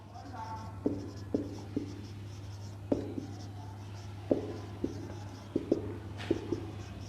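Chalk or marker strokes on a classroom board, a series of short taps and scratches spaced irregularly, heard close over a steady low hum with no talking.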